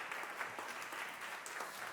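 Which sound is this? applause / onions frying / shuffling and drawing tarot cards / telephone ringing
applause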